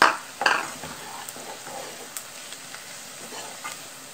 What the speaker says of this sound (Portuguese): Quando fritar o bacon, a cebola também já está frita